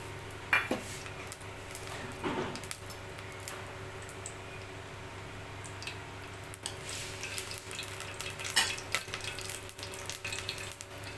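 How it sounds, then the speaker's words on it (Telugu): Three dry red chillies, cumin and mustard seeds go into hot oil for a lentil tempering, giving a faint steady sizzle broken by scattered close clinks of utensils and a few soft crackles. "నేను ఎండుమిర్చి మూడు జీలకర్ర ఆవాలు అయితే తీసుకుంటున్నాను ఆయిల్ అయితే హీట్ అయింది అందులో అయితే వేసుకుంటున్నాను"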